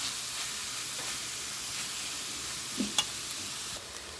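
Carrots stir-fried with turmeric in a pan give a faint, steady sizzle and hiss, with a couple of light clicks of a spoon near the end.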